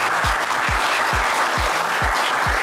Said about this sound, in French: ils méritent un tonnerre d'applaudissements de la part.